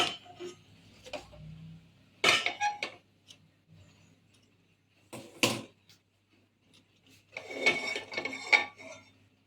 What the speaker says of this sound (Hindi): ಗ್ಯಾಸನ್ನು ಉರಿಸಿ ನಾವು ಕುಕ್ಕರನ್ನು ಇಟ್ಕೊಳ್ಳೋಣ।